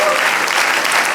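A church congregation breaks into loud, dense applause during a Spanish-language sermon, with steady clapping filling the space and some voices mixed in.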